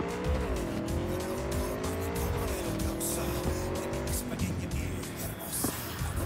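Motorcycle ride in the video game Cyberpunk 2077, a loud steady engine drone with rising and falling pitch, tire squeals and skidding over continuous road noise, no talk.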